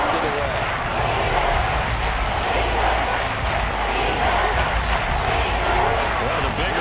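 A stadium crowd roaring in a Madden football video game, a dense, loud continuous swell of cheering with a play-by-play commentator talking over it.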